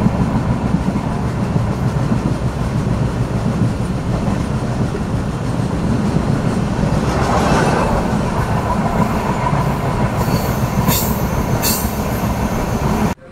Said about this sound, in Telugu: మొత్తానికి ట్రైన్ అయితే స్టార్టింగ్ అయిందండి